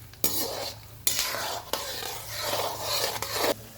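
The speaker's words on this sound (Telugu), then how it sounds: "కలపండి బాగా" Chana dal and urad dal stirred in a hot pan, a spoon scraping in a few distinct strokes over a steady soft sizzle, close and fairly quiet with no talking.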